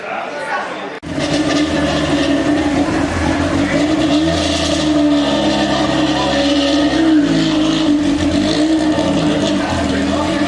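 BMW E30 rally car number 11, division 4, at a rally event, its engine revving loudly and continuously after a brief quiet start while a commentator speaks over it.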